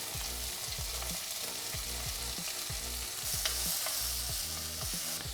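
Onions, garlic and chilli frying in about two tablespoons of vegetable oil over medium-high heat, a constant close sizzle with regular rhythmic stirring scrapes of a utensil against the pan.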